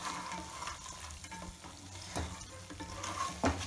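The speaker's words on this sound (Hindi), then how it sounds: "धीमी आंच पर हमने मखाने डालकर अच्छी तरह से इनको तल लिया है।" Fox nuts (makhana) fry in ghee over low heat with a soft continuous sizzle, punctuated by scraping stir strokes and a sharper clink near the end, with no speech.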